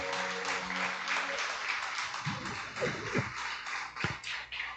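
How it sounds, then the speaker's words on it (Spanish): A church congregation applauds during a Sunday morning service, a dense, continuous patter of many hands clapping at a moderate distance, with a few stronger individual claps near the end. "Denle ese aplauso al Señor en esta mañana."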